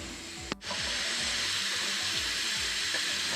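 A pressure cooker cooking chicken soup (canja) in a motorhome hisses steadily and softly, broken by a brief click and a short dip before the even steam hiss resumes.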